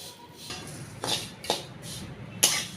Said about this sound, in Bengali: ঘি দিয়ে নাড়াচাড়া করে দিচ্ছি যাতে সব ঘিটা পুরো সিমইটাতে লেগে যায়